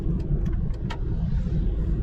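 BMW E46 3 Series accelerating on a road to overtake a slow tricycle, a steady close engine rumble with a few brief higher-pitched bursts early on.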